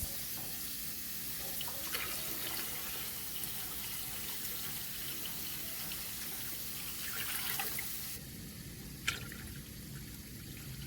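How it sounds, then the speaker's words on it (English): Steady warm water pours into a large canning pot, a continuous broadband wash with a brief splash or clink near the end. "I'm going to add a little bit more warm water to this canner"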